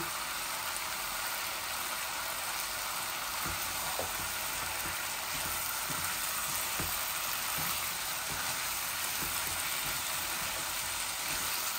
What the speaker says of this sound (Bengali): আলু আর বিচিগুলা আমার ভাজা ভাজা হচ্ছে